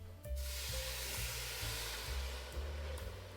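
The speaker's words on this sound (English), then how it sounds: "I always like sauteing the shrimp in plenty of butter in a separate pan to get them nice and crispy" Shrimp sauté in plenty of butter in a separate pan, giving a steady broad sizzling hiss with a low rhythmic rumble underneath.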